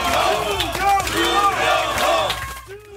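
Members of the People Power Party cheer and shout together outside the Seoul Detention Center at dawn as a former floor leader is released, a loud, sustained mass of voices that swells and then drops off near the end.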